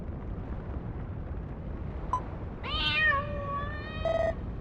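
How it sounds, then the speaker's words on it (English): A cat meows in the video game Dragon Quest Builders 2, one drawn-out, clear meow followed by a shorter, higher call, both close and alone over a low ambient game hum. "Oh, just a kitty, eh?"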